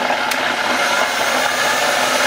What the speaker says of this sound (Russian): Включаем фен на максимальную температуру.